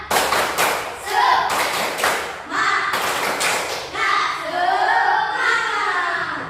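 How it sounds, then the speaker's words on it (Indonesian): A class of children performs a rhythmic spirit clap, sharp patterned bursts of clapping and tapping alternating with short group chants, close and loud, repeated over several seconds. "Tepuk. Tepuk semangat."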